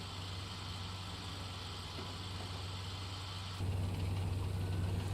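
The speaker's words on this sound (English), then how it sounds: "Only thing I'm hearing are tanks rolling to the north." Tank engines rolling in the video game Steel Beasts, a steady low idling drone with a deep hum that grows louder and rougher partway through, no voices.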